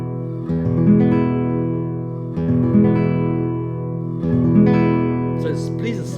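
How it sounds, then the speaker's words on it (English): A Yamaki GC-30 grand concert classical guitar is plucked, with three ringing strummed chords, each sustained and slowly decaying before the next, in close, clear detail. "it's a wonderful and warm sound you can hear"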